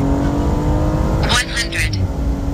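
A BMW M135i manual and M235i automatic accelerating side by side in a drag race, engines droning loudly and steadily from inside a car while people talk over the noise.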